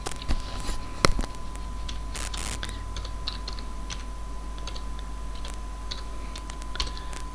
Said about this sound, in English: I just type slash begin itemize